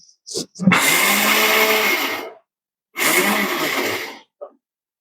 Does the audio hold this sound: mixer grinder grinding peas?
yes